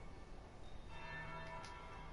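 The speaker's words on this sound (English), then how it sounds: "That would be the second bell." A church bell rings in the video game Dragon Age: Inquisition, a single soft, sustained toll that swells briefly and hums on at low volume beneath ambient background noise.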